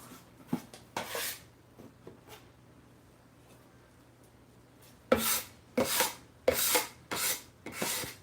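A small scraper tool scraping the edges of bars of handmade soap, heard as a few faint rasps early on, then a quick run of six loud, close scraping strokes in steady rhythm, with no talking.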